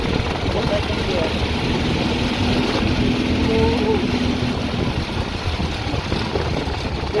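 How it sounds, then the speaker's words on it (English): A GX390 generator engine powering a dune buggy in second gear on a first test run gives a steady, loud, continuous drone with a low hum running throughout the drive. "This is the second gear, and this is how it goes in the second gear."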